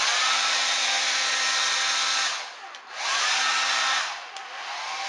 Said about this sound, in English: I could blow dry it. That would help the process speed up a little.